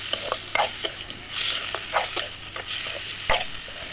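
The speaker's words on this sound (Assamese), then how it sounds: "এতিয়া এপিনে কেৰাহীখনত মাংসখিনি ভাজি লোৱা হৈছে" Pork pieces fry in a wok, giving scattered crackles and pops with a light sizzle between them, close and moderately loud, with irregular sharp spits over a soft background hiss.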